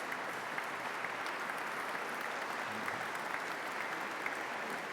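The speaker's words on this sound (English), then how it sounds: "Thank you for that wonderful ovation." A large audience gives a sustained ovation after a charitable foundation's annual lecture, dense steady clapping filling the room for the whole stretch with no speech over it.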